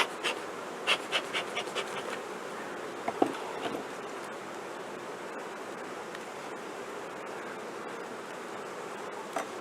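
Honey bee colony buzzing during a hive inspection, a soft, steady drone of many insects at close range with brief sharper bursts as individual bees pass nearby and no talking.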